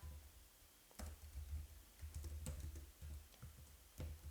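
Soft keystrokes on a computer keyboard come in short irregular bursts of clicks, quiet and close, with no talking.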